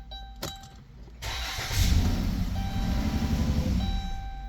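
A Chrysler, Jeep or Dodge car engine cranks and fires up after a brief click, then settles into a steady idle close by, with a faint electronic chime tone running over it.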